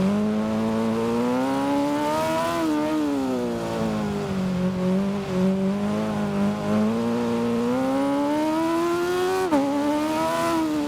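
A racing motorcycle in Ride 6 whines at high revs, the engine pitch rising and dipping through shifts and braking, with a sudden drop near the end, loud and continuous with no talk.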